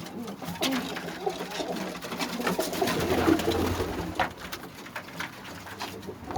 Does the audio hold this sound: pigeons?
yes